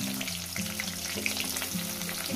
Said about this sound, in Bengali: পেঁয়াজটাকে আমি ভেজে নেব, প্রায় 2-3 মিনিট ধরে পেঁয়াজটাকে ভেজে নেব।